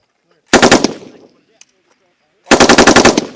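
Mounted machine gun firing in a U.S. Marines live-fire exercise, two loud, close bursts of about six rapid shots each, separated by a quiet gap of about a second and a half.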